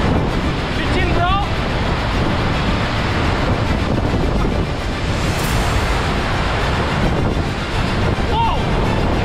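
Water at the Curug Kembar twin waterfall in Lembah Purba rushes in a loud, steady broadband roar, with wind buffeting the microphone throughout.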